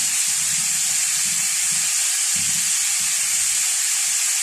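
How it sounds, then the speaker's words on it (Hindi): Grated carrots for gajar ka halwa frying in a pan, a steady loud sizzle and hiss throughout with soft irregular stirring knocks underneath, no talking. "हल्का सा फ्राई करना है इनको, ज़्यादा नहीं करना है।"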